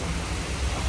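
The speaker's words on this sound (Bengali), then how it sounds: "এখানে মুষলধারায় বৃষ্টি" Torrential rain at Jatin Das metro station in Kolkata, a steady, dense broadband hiss of heavy downpour filling the whole second with no break, close and even in loudness.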